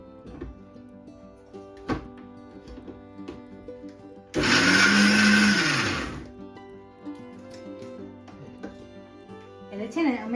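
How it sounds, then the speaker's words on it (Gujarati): Kitchen mixer grinder blending mint chutney with salt, one loud steady whirring burst of about two seconds close up, starting abruptly and winding down, with quiet clinks and talk before and after. "હવે ગ્રાઇન્ડ કરી લઈશ. એમાં પણ ઘરે મિક્સર આ છે ને એકદમ તરત જ ગ્રાઇન્ડ થઈ જાય."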